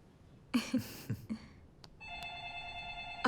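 A landline telephone rings inside a home with a steady, sustained electronic tone, preceded by a few sharp knocks and clatters, with no talking.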